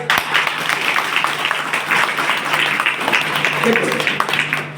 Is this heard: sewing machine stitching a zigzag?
no